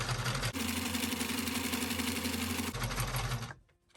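A sewing machine running a straight stitch down the center of clear packaging material, a steady mechanical whir with a brief change partway through, then stopping abruptly near the end.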